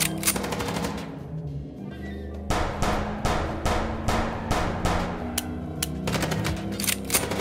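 Gunfire breaks out during a car ride in the Chicken Police Paint it Red video game: sharp, loud shots in quick rattling bursts, with short gaps between volleys, layered over a steady musical backdrop.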